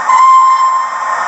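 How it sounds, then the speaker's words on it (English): Short, loud whistle blast from a Hornby OO gauge Flying Scotsman model locomotive with TTS sound, a single steady steam-whistle tone lasting about a second. "Now we come to number four, which is whistle short blast."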